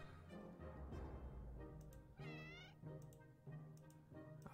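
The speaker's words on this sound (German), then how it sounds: "Hauptsache, die Katze ist da." Cat meowing in the video game 60 Seconds Reatomized, a few drawn-out meows over a steady low in-game hum, fairly close and clear with no talk.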